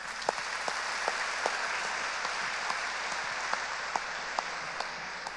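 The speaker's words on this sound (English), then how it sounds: "you should really applaud yourself now" A conference audience applauds steadily in a continuous wash of clapping, moderately distant, with a few sharper individual claps standing out and no talk over it.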